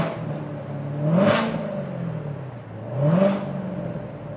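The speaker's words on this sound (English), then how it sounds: "We're going to do exhaust now. Vehicle's nice and warmed up. We'll give you a little taste of that." A warmed-up 2015 Chevrolet Corvette Z06 with a 6.2-liter supercharged V8 revs twice through its exhaust while parked, each blip swelling up and falling back over a steady idle.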